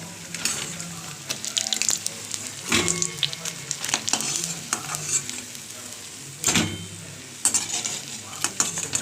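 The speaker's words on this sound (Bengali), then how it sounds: "আওয়াজটা শুনতে পাচ্ছ বড়া রাখার আওয়াজটা তাহলেই বুঝতে পারছো কেমন খাস্তা হয়েছে" Crispy fried red bak flower fritters are set down one after another, giving sharp crackly rustles in irregular bursts, quiet and close, with faint sizzling behind.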